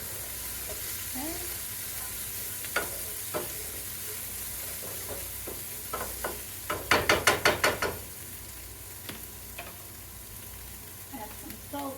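Eggs frying in a pan are stirred with a utensil, giving a soft sizzle under scattered scraping clicks and one quick burst of rapid tapping midway.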